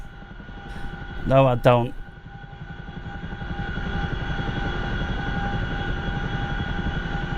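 A Chinook helicopter in the DCS flight simulator gives a steady, close rotor and engine drone that swells slightly partway through. A person speaks briefly near the start.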